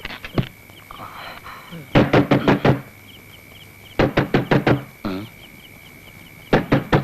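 Someone knocks hard on a wooden door in a scene from a 1996 Malayalam comedy drama, several rapid bursts of four or five loud raps separated by pauses, with faint voices in between.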